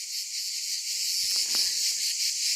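Cicadas sing in a dense, continuous high buzz that stays steady and loud throughout, with a few faint knocks beneath it.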